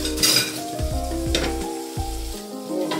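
Running water splashes and hisses steadily while dishes are rinsed, with a low hum underneath and brief bursts of spray.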